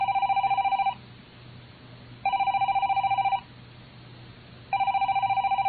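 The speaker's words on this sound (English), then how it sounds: "It sounds like the phone." A telephone bell rings in three loud, evenly spaced bursts of rapid trilling, each about a second long with pauses between, over a low steady hum.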